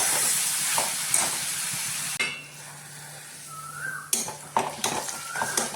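Onions sautéing in a pan for Kerala-style fish pollichathu, a steady close sizzle with metal utensil scrapes and clinks on the pan, the hiss thinning midway before stirring clatter resumes.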